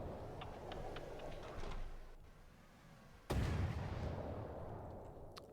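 Tank gun firing in the video game From the Depths: a sudden loud boom partway through that decays over a couple of seconds, over a rumbling game background with faint earlier clicks and no speech.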